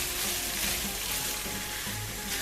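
Beets and vegetables for meatless borscht with beans sizzle steadily in a pan as they are stirred, a dense continuous frying hiss with soft scraping of the stirring underneath.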